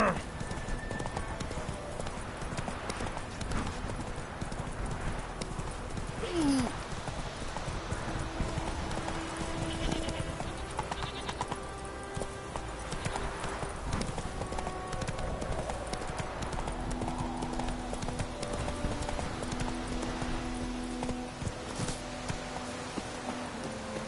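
A horse galloping in The Witcher 3 video game, with a steady, continuous clip-clop of hooves over a sustained musical backdrop.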